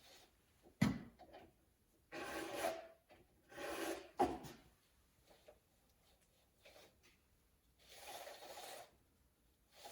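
A hand file sharpens the chain teeth of a Stihl MS362 chainsaw in several separate rasping bursts of scraping strokes. The bursts are close and moderately loud, with quiet pauses between them and no talking.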